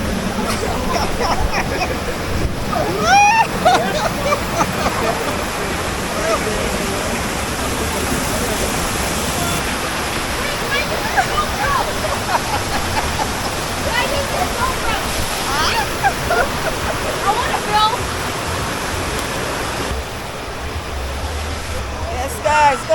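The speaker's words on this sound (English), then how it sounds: "going down the lazy river at Camelbeach" Steady rushing and splashing water drifts along a waterpark lazy river at Camelbeach, a broad continuous wash under scattered voices and close chatter throughout.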